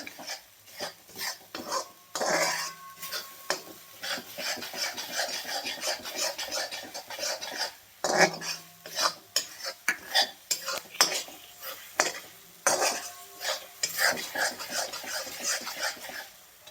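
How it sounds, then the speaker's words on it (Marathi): Metal spatula scraping and stirring sesame and cashew paste as it roasts in a pan, a steady run of rasping scrapes and clinks with irregular rhythm, close and clear. "तीळ आणि काजूची पेस्ट आपल्याला व्यवस्थित भाजून घ्यायची"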